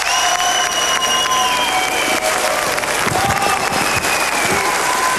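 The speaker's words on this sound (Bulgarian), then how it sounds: "Аплодисменти!" Audience applause and cheering at a hip hop dance show, loud and continuous with crowd noise and music tones running underneath.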